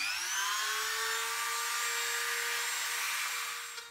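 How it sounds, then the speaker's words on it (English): A small high-speed rotary drill whines continuously as it gouges into a pine board, a close, steady high-pitched spinning tone with no talk. "as you're using both hands to control the little spinning drill"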